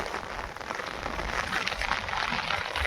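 Steady rain pours down on a farm field of onion beds, a dense even hiss of drops hitting a surface, continuous and fairly close throughout.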